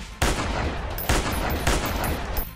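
Rapid bursts of gunfire from the hunting video game Dinosaur Hunter Africa come in three loud volleys, each sharp onset trailing into sustained automatic fire, with no talking.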